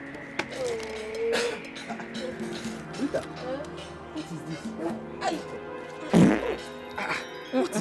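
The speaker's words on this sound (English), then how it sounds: "Don't you fart? This thing stinks, man." A fart sounds out during an indoor drama scene, a short low blurt heard amid people talking and other incidental noises.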